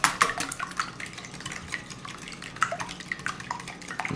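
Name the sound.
whisking eggs in a bowl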